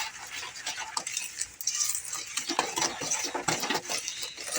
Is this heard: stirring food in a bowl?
yes